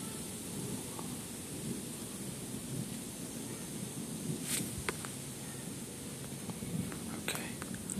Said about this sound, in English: Storms are always so better at night.